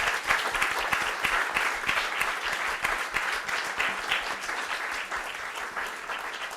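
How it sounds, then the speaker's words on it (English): An audience applauds workshop guests with steady, dense clapping that holds evenly throughout and is heard close. "let's give a big round of applause for our guests"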